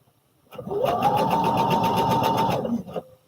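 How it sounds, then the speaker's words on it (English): A home sewing machine stitches fabric in one steady, close run of about two seconds, a fast even whir that starts and stops cleanly with no talk over it. "I'm just watching you sew."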